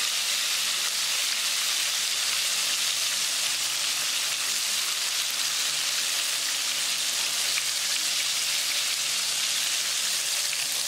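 Popcorn fish frying in hot oil, a loud, steady, dense sizzle and crackle that holds unchanged throughout, close up and with no talking.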